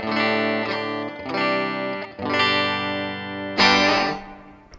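Clean electric guitar chords from a Stratocaster's bridge pickup through a Blackstar HT5R tube amp ring out one after another, bright and sustained, with a reverb tail lingering behind each strum.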